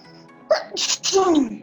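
A single sharp human sneeze in a classroom setting, close and loud, with a brief breathy intake before the burst and a trailing vocal tail.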